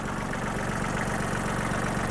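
A Kubota GL-23 Japanese mini tractor's diesel engine idles close by, a steady low rhythmic chug that holds even and unchanging throughout.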